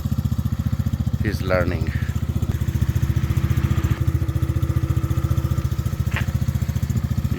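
125cc ATV quad engine chugging steadily at low speed as it is ridden in reverse, a close, even pulsing putter throughout, with a brief voice speaking over it early on.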